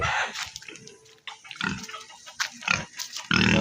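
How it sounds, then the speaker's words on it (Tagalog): Native piglets squeal in sharp, shrill bursts while being castrated. Loud cries come in uneven bursts with short gaps between them, close by, with no talking. "napakaraming biik kakapunin natin mga guys"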